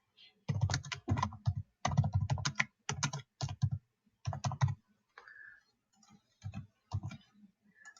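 Fingers type on a computer keyboard in quick bursts of close, crisp key clicks separated by short pauses, growing sparser and lighter toward the end.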